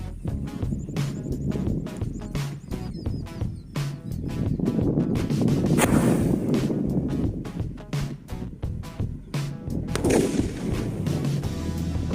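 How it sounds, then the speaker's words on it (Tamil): A sky shot firework filled with kerosene is lit and launched outdoors, heard as a steady stream of sharp crackling pops over wind noise, with two louder blasting bursts partway through. "இந்த மூணையுமே ஸ்கை செட்டில் ஊற்றி பற்ற வச்சு மேலே போய் வெடிக்குதா இல்லை என்ன ஆகுதுன்னு பார்க்க போகிறோம்"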